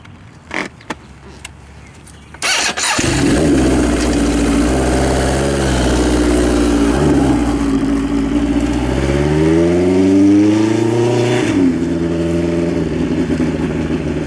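A street-legal drag motorcycle engine starts up after a few clicks, then revs hard for a rolling burnout, loud and close, with pitch climbing through the revs before dropping off near the end.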